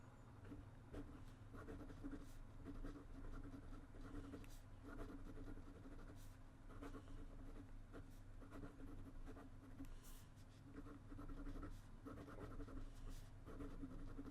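A Montblanc Boheme fountain pen writes on paper with a soft, continuous scratching that comes in short strokes, very faint and close, over a low steady background rumble.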